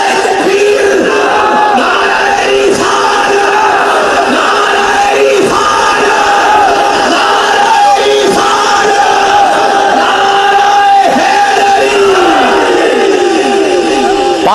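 A large crowd at a religious rally answers the Takbeer call, roaring the slogan in loud unison, with rhythmic waves of massed voices filling the space continuously.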